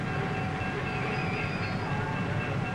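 A passenger train with a big engine gives off a steady, loud rumbling roar with continuous rail noise, near and unbroken, with no voices.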